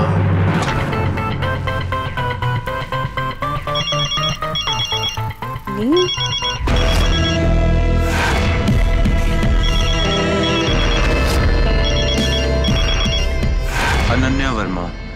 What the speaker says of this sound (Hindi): फोन उठाओ अनन्या।